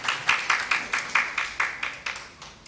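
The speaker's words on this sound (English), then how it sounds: "A round of applause, please." A small audience gives a brief round of applause at a plastics-economy launch event in Nigeria, producing a sparse run of about a dozen distinct, fairly faint hand claps at an even pace.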